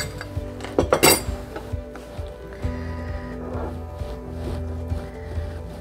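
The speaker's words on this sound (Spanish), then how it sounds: "Y le vamos a revolver." A spoon scrapes and clinks around a pot as parmesan cheese is stirred into a sauce that is about to boil, with a few sharp metallic knocks early on, then steadier scraping strokes, close by and with no talking.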